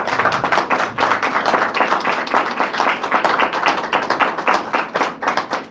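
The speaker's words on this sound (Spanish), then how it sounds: "¿Le pueden dar un aplauso al Señor por su Espíritu Santo?" A church congregation claps during a service, a loud and close burst of many hands beating in a fairly regular, rhythmic pattern that holds for several seconds.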